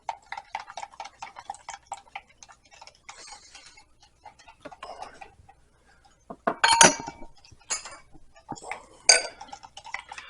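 Teaspoon clinking against a glass of water while stirring in supplement powder, a run of quick light taps and scrapes, then a few sharper clinks later on, close and with no talk.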